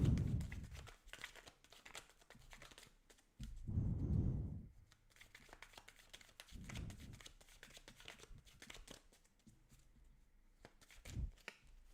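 Tarot cards shuffled by hand during a reading, soft papery riffles and crinkly handling in several short bursts with quieter rustling between them.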